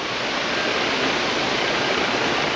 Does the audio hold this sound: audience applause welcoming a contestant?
no